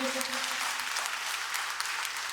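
A church congregation claps loudly in thanks to the Lord, a steady wash of many hands throughout, with a sustained tone from a voice or instrument fading out early on.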